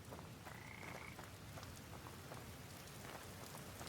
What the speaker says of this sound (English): The rain's letting up a little bit.